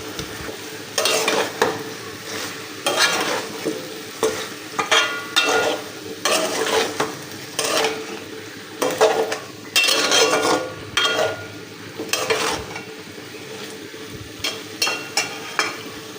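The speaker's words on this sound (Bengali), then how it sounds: "এখানে আমি হলুদের গুঁড়া, মরিচের গুঁড়া আর হচ্ছে লবণ এখন এটা মিক্স করে নেব" Turmeric, chili powder and salt are stirred in a hot pan with a utensil. Repeated scraping strokes and clinks sound against the metal over a soft sizzle, close and without speech.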